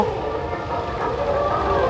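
A family train ride at the Fantasy Kingdom amusement park, with a loud, steady rumble and a sustained whistle-like tonal hum running through the whole stretch and no talking.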